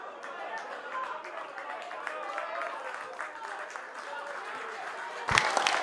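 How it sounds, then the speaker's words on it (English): Rugby league crowd at an away Batley Bulldogs match applauding substituted players, a steady spatter of clapping with cheers and crowd murmur throughout, swelling louder near the end. "Huge rounds of applause for Anthony Mullally and Darryl Griffin"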